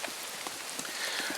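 Steady rain falling on a surface outdoors during a storm, a soft continuous hiss with scattered close drop patters, fairly quiet and with no voices.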